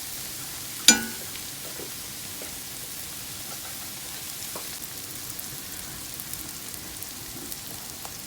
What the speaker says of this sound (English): we're going to add just a little bit more butter, about a tablespoon of butter. We're going to let that melt out